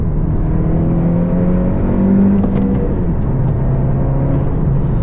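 A 2020 Honda Civic Si with a turbocharged engine and manual gearbox, heard from inside while driving, with a steady loud engine drone whose pitch rises and shifts as it revs, with no talking.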